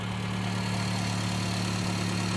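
A used car engine idles steadily with its oil filler cap open, a constant low hum and faint rattle that stays even throughout, close by and without speech.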